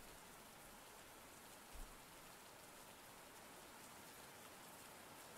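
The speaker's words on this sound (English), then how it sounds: "Why can I still hear the rain? Is it that heavy?" Steady rain falls in the farming video game Andy's Apple Farm, a faint, even hiss of drops that continues unbroken throughout with no other sounds.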